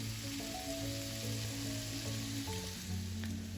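Chopped onions sautéing in oil for a Turkish Aegean zucchini dish, a soft, steady sizzle with faint crackles beneath a low background hum.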